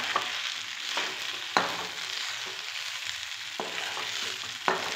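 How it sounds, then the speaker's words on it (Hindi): Schezwan vegetable fried rice mixed in a pan with salt, a continuous close sizzle broken by periodic sharp knocks and scrapes of the spoon against the pan, roughly once a second. "अभी हम अच्छे मिक्स कर लेंगे चावल को।"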